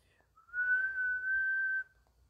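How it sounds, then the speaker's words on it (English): A single sustained whistle tone from a children's toy whistle in a storybook setting, steady and clear for over a second, rising slightly at the start and cutting off cleanly, with no voices. "Yo Jojo will play his whistle when the clues are ready"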